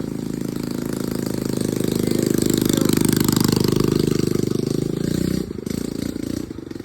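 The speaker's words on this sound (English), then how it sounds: "Oh, there's a very loud motorbike behind me." A loud motorbike engine runs close by on a road in remote Indonesia near a waterfall, a heavy, steady throbbing drone that dips and changes near the end.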